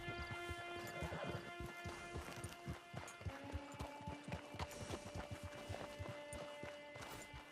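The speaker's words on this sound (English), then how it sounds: "Get your horse." Horse hooves clip-clop at a steady trotting rhythm in Red Dead Redemption 2, close and distinct over a soft musical hum, with no talking during the hoofbeats.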